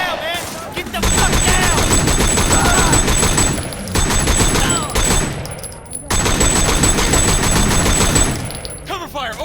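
Gunfire in the video game Sleeping Dogs, with loud sustained automatic bursts and rapid shots over several seconds, broken by brief pauses, alongside shouting game voices.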